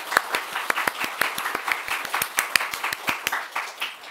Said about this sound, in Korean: 우리 그 하나님께 우리 박수 한번 올려드릴까요?